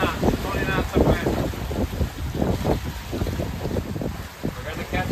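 Strong wind blows across a sailboat on the open Pacific while moving at seven knots in twenty knots of wind, a steady loud rush with water noise and voices talking over it.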